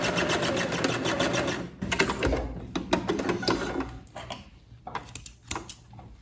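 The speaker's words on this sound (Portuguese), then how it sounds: "Retrocesso no final da costura." A sewing machine backstitches at the end of a seam on a boat-neck blouse, rattling steadily and loud at first, then breaking into shorter bursts and clicks as it slows.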